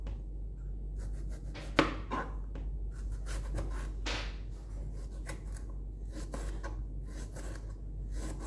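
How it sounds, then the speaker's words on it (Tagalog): A knife slices a tomato on a cutting board for beef tacos, giving a run of close, crisp cuts and scrapes at an irregular pace over a low steady hum, with no talk. "So, i-slice na natin ang ating tomato."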